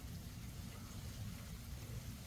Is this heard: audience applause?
no